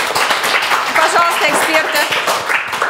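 Applause from the audience at a televised Russian grammar quiz show, dense steady clapping running throughout, close and fairly loud, with a presenter speaking over it.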